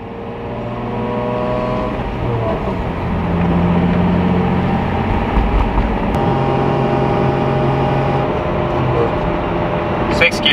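Nissan 350Z with a stage 3 clutch and lightweight flywheel drones along under steady engine and road noise, engine note shifting as gears change, with someone talking over it.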